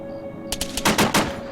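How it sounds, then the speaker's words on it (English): .50 cal machine gun firing in Arma 3 combat, a short loud burst of several heavy rapid shots following a faint steady hum, with no talking. "Oh, one of the 50 cals is kicking off."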